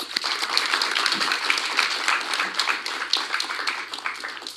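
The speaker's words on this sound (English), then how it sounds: "Let's have a round of applause" Audience applause at the National Tourism Debate Finals, a room full of steady clapping heard fairly faint and distant, continuous across the moment with no voices over it.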